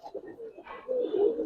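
Silver khaki Giribaz pigeons cooing close by, a short soft low coo followed by a fuller, louder rolling coo.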